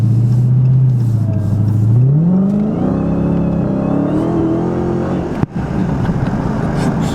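Dodge Hellcat engine accelerating in 500 horsepower mode, a loud, close deep roar that climbs steadily in pitch through the gears, with a brief sharp knock near the end and no talk.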